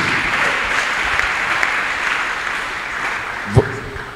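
A church congregation breaks into sustained applause at a healing service, a dense wash of clapping that holds steady throughout, with a brief louder thump near the end.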